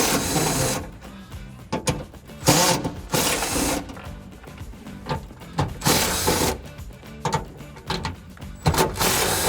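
Impact gun fitted with a 10mm socket removing bolts from the rear seat brackets of a 2005-2014 Ford Mustang, heard as close, intermittent bursts of rattling, hammering mechanical buzz separated by short pauses.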